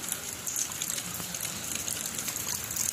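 Rainwater gushes and splashes steadily into an indoor space during a downpour, a close, bright, hissing rush with small droplet spatters throughout and no voices.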